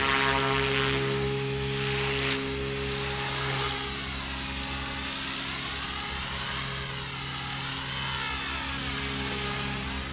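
A small Align T-Rex 300X electric RC helicopter flies steadily nearby on its maiden flight, its rotor giving a continuous whine with pitch rising and falling as the throttle changes, with no talking.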